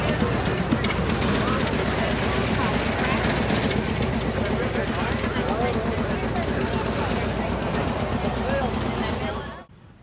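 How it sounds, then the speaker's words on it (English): An Eclipse steam engine runs at an antique agricultural show in Perry, Georgia, a loud steady mechanical rumble and chuffing with crowd noise, continuous until it cuts off just before the end; voices are heard in the background. "They've got a steam engine here."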